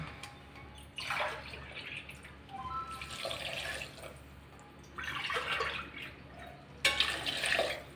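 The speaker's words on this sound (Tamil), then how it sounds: "இனி நமக்கு வந்து தேவையான அளவுக்கு வாட்டர் தண்ணி ஆட் பண்ணி நமக்கு இது வந்து வேக வைக்கலாம்" Water is poured into a pressure cooker holding drumstick leaves for sambar rice, coming in several splashing bursts of pouring and running water with quieter pauses between them, close by in a kitchen, with no talk.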